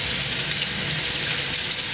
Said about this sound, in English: Okay, I gotta wash my hands.